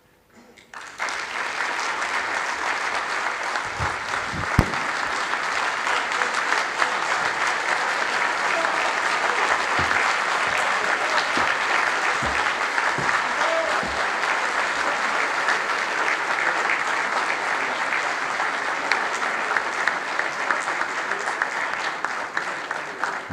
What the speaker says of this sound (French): Mesdames, Messieurs, des applaudissements encore plus nourris pour Maître Awa Faye.